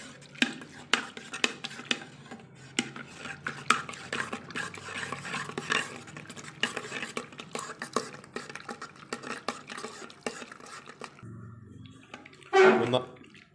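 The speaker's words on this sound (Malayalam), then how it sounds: "ഉണങ്ങിയ ഒരു തവി കൊണ്ട് ഇതൊന്ന് ഇളക്കി കൊടുക്കണം" A dry ladle stirs fermenting homemade strawberry wine, giving a steady run of soft scraping and sloshing clinks close by, ending in a brief louder knock.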